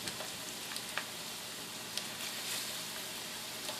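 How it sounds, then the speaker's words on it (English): Constant crackling sizzle of breaded chicken frying in hot oil, with scattered sharp pops over a steady hiss. "Get frying."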